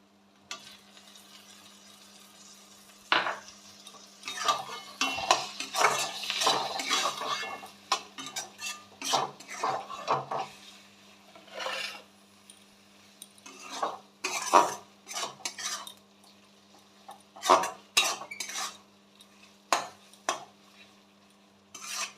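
Chicken masala with tomato being stir-fried in a pan for chicken kosha, close and fairly loud, with a repeated scraping, clinking stir of a utensil against metal in irregular bursts over a low frying hiss and a steady low hum.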